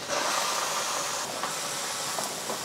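Onions dropped into a hot pan for Mongolian beef, giving a broad hissing sizzle that starts loud and holds steady with faint crackles, close by and without talking.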